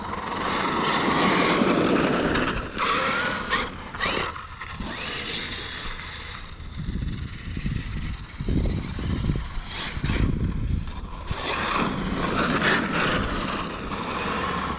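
A Traxxas X Maxx RC truck on Method RC Geoform belted tires tears across grass, its electric motor whining and surging loudly, easing off briefly mid-run before building again.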